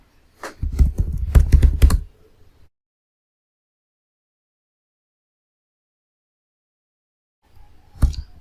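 Quick burst of typing on a computer keyboard during a Java installation on Debian Linux, a dense run of clicks for about two seconds, then silence before a short final keypress cluster near the end.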